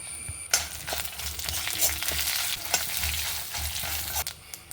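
Mustard seeds, fenugreek and curry leaves tempering in hot oil crackle and sizzle continuously, broken by sharp pops and spatters, with no voices.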